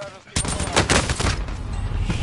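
Rapid nail gun fire in Call of Duty Warzone, a dense run of sharp repeated shots carrying on steadily over a loud game mix with a voice talking underneath.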